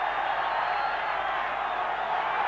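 Dense, steady roar of a football stadium crowd cheering at a 1990 Colombia versus USSR match, a continuous broad wash of many voices holding at even loudness throughout.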